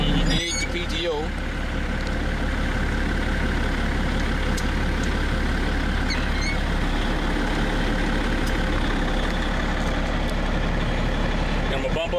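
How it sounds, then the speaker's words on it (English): Truck engine idling with the PTO engaged to drive the hydraulics of an old walking floor trailer, a close, continuous low diesel rumble that holds steady throughout. "First thing we do is engage the PTO."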